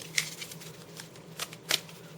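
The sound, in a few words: shuffling a deck of Uncharter board game cards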